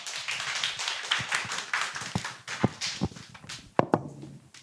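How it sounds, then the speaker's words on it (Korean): Scattered claps and hand taps from a small audience at a Seoul social-economy talk event, irregular and fairly close, thinning out toward the end with a few isolated sharp claps. "박수 한번 부탁드릴게요."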